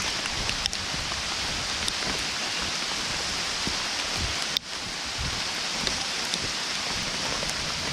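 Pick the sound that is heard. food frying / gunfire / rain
rain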